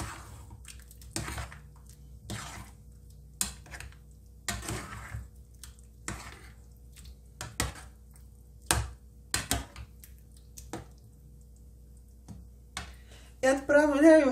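A spoon stirs rice porridge with pumpkin and butter in a pot, giving scattered clicks and scrapes against the pot with quiet gaps between them, ending in a louder rustling stir.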